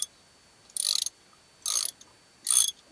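Ratchet wrench loosening a bolt on a Mercedes Sprinter van's fuel filter, three short bursts of quick clicking, close and fairly quiet, with pauses between.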